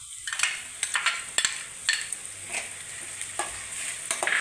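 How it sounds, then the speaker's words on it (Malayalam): Sliced onions sautéing in a pan for vegetable biryani, a soft continuous sizzle with repeated scraping strokes of a spoon stirring, close up and without talk. "ഒരുപാട് വേവേണ്ട ഈ സവാള, ചെറുതായിട്ടൊന്ന് വഴണ്ടാൽ മതി."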